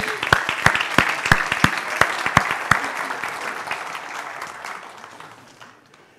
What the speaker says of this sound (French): Est-ce que vous pouvez vous applaudir?